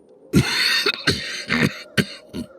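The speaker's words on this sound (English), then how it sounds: "He coughed until he spit up phlegm." A person coughs in a rough, hacking fit of about five bursts in quick succession, close and loud, with no other sound.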